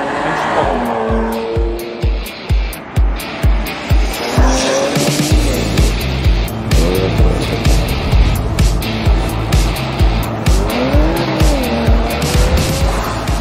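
A 2020 Porsche Macan Turbo corners hard, tires squealing in repeated wavering bursts over a steady pulsing engine drone, loud and close throughout with a rhythmic thumping underneath.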